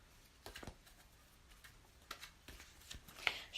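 Angel cards being shuffled by hand, a faint scattering of soft papery flicks and taps in irregular bursts against a quiet room.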